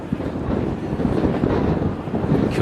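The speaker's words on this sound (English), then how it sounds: "the wind picking up as the afternoon progresses" Continuous gusty wind rumbling across the microphone at an outdoor rugby league ground, loud and steady with no voices.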